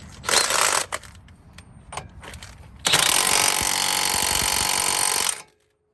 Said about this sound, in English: now we have the 32mm axle nut that we need to go ahead and tighten up